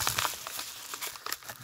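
A plastic packaging bag holding a small car door lock motor crinkles while being opened, a quiet, close, irregular rustle of short crackles without speech.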